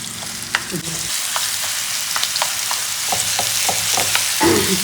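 Chicken momo stuffing heating in oil in a pan, a close, loud frying sizzle with repeated crisp crackles and stirring scrapes throughout the short stretch.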